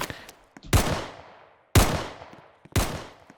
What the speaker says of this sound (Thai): มีปืน ใครยิง